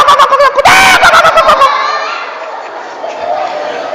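A voice imitates a clucking hen that has just laid an egg: loud, rapid, close cackling pulses for about a second and a half, then the sound trails off into a fading hiss.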